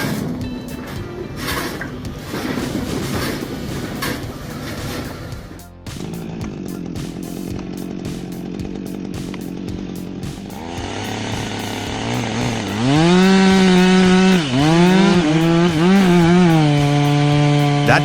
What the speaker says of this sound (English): That chainsaw is roaring.